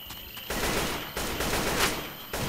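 Sustained burst of rapid gunfire in the zombie shooter Left 4 Dead 2, loud and dense, with brief pauses between volleys and no talking.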